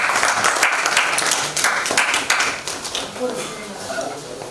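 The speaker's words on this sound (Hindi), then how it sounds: "जोरदार तालियों के साथ स्वागत कीजिए।" Applause from a ceremony audience as the chief guest lights the ceremonial lamp at a Culture Ministry event, a steady, dense clapping that rises and swells in waves before thinning out toward the end.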